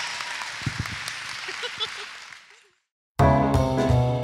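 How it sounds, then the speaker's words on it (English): Audience applause for an award recipient at a community arts awards ceremony, a loud burst of clapping that fades out before a voice starts speaking. "So everybody give her a round of applause"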